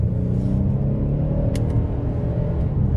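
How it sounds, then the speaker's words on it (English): A 2024 Hyundai Palisade Calligraphy AWD in sport mode accelerating onto an interstate, its engine rumbling and climbing in a steady pull heard from inside the cabin. "I'm just gonna put it into sport now, getting on the interstate here and test out these paddle shifters. So we'll give it a little pull here."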